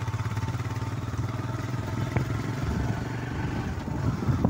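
Motorcycle carrying a rider and passenger on a shortcut through Gauhati University campus in Guwahati, its engine a steady close mid-pitched drone with small surges and a few clattering knocks.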